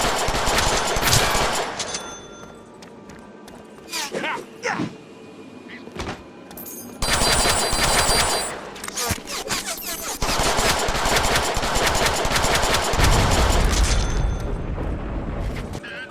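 Video-game gunfire in Deadpool, a gun set to perforate firing rapid bursts over loud action noise, dense and continuous with brief pauses, a deep boom near the end.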